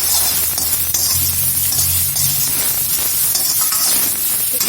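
Sprouted green gram (moong beans) sizzles loudly in a pan while being stirred, a constant close hiss with faint scraping throughout.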